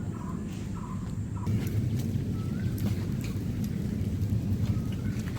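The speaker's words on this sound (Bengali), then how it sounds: "বলতে বলতে বৃষ্টি চলে এসছে, আর দেখো এই দেখো শিল পড়ছে" Outdoor rain with falling hailstones sets up a steady, dense patter that swells after the first second, with a few faint bird calls audible in the background.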